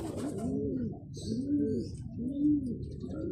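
Domestic pigeon, a blue bar white flight bird, cooing in three rhythmic, rolling phrases, fairly close and clear, with faint chirps from other birds in the background.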